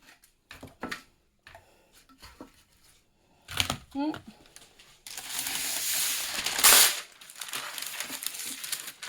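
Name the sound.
parchment paper being laid down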